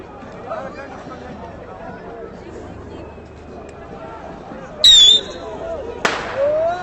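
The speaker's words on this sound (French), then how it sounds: "des pétards également lancés de l'autre côté" Firecrackers thrown during a tense street protest, a couple of sharp loud bangs near the end rising over steady crowd murmur and distant chatter.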